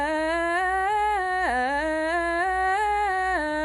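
A single voice chants the shalshelet cantillation mark in its alternate, more ornamented form, a sustained melodic line with wavering, trill-like ornaments and a dip in pitch partway through, heard alone without accompaniment.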